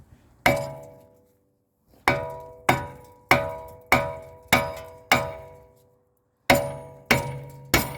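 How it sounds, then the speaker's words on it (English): A heavy hammer whacks a rusted front brake rotor on a 2020 Mitsubishi Eclipse Cross 1.5 turbo, about ten loud ringing metallic clangs, each decaying quickly, spaced irregularly with a short pause after the first. "You want to grab yourself the BFH and whack the rotor off."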